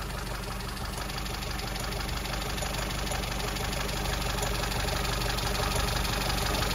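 A Mini engine idles steadily up close while its ignition timing is set, fitted with a new high-power distributor and a 0.8 ohm coil; a continuous, even running note with a slight knocking edge, no pauses and no talk.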